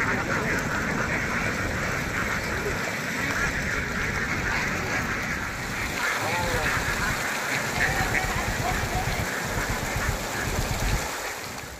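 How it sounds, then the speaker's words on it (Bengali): Ducks quack in a dense, continuous chorus at a duckling hatchery near a rearing house, close and steady for the whole stretch before easing off at the very end. "এই যে দেখছেন হাঁসগুলো উঠছে আপনার"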